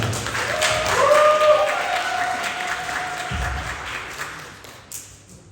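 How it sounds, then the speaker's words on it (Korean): An audience at a school Literature Day event claps for a seventh-grade student about to recite Yun Dong-ju's poem "Seosi"; a warm wash of many hands swells, holds, then tapers off over several seconds, with a faint tone briefly ringing through. "큰 박수로 부탁드립니다"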